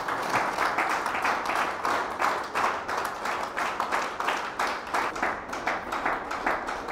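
An audience at a Navratri day-four spiritual gathering claps steadily, a dense sustained rattle of many hands with a faint rhythmic pulse running throughout.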